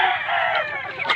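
A rooster among a flock of chickens at feeding time lets out a brief, loud, sustained crow close to the microphone.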